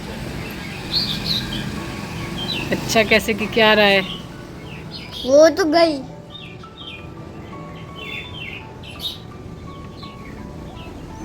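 Small birds, bulbuls among them, chirp and tweet in a home garden, with scattered light calls throughout while people talk nearby.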